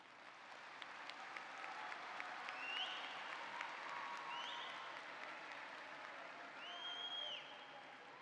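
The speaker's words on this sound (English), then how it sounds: "Graduates, please take a moment to applaud your loved ones who helped you reach this moment." Graduates and audience at a fall university commencement ceremony applauding, a sustained wash of many hands clapping at moderate distance in a large hall, with a few faint whistles or cheers rising above it.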